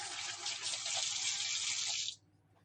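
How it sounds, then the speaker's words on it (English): Tap water runs steadily into a sink during handwashing while burger patties are being prepared in a home kitchen, a close broadband rush lasting about two seconds before cutting off abruptly. "So let me quickly wash my hands."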